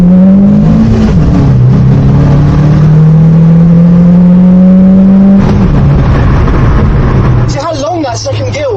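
A car accelerates hard through a long second gear on a slightly downhill road, the engine tone climbing steadily and loud before a gear change, heard from inside the car.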